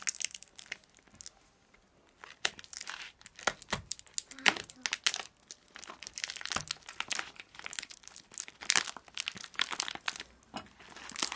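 A delivered package is opened at close range, with bursts of crinkling wrapping and tearing after a quiet start, irregular and fairly soft throughout.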